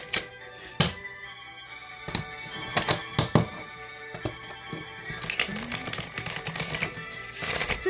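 Tarot cards being shuffled by hand give irregular sharp slaps and riffling clicks, close and moderately loud, over faint background music, with a denser flurry of crisp rustling toward the end.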